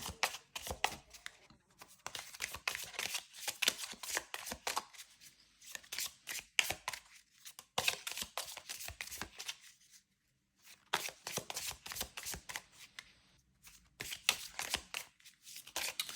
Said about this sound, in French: on va tirer 2 cartes de l'oracle des dieux.